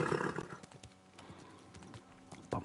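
Horse hooves clop irregularly at close range in the video game Kingdom Come: Deliverance II, with soft shuffling in between and a louder knock at the end.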